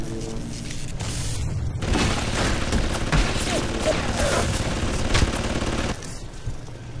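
Sustained turret gunfire from the Bioshock video game, a dense volley of rapid shots and booms running steadily through the whole stretch with faint mechanical clatter, loud and continuous.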